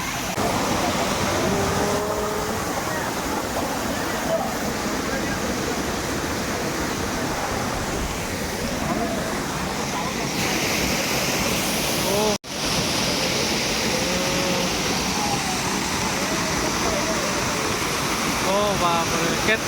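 A strong waterfall roars as a broad, constant rush of water, loud and close, with a voice speaking faintly beneath it and a brief dropout near the middle.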